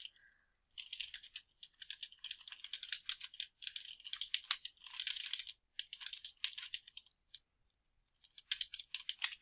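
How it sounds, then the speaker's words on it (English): Quick bursts of typing on a computer keyboard, soft and close, with rapid key clicks in runs separated by short pauses, alone and without speech. "I'm going to press enter and start typing on line 18."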